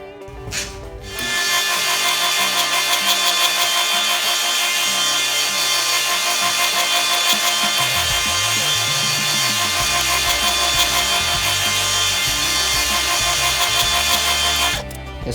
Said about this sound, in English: So I'll drill some holes and mount these eyelets